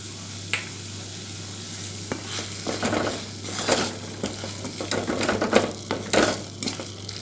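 Onions and chili powder sauté in a pan for paneer masala dosa, a moderate sizzle broken by scraping stirs and occasional clicks, with a low steady hum underneath and no voices.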